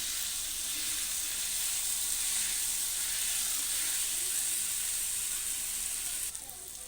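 Onion and green chili thecha sizzling steadily as it is sautéed in a pan, a loud continuous frying hiss with faint stirring that drops slightly near the end.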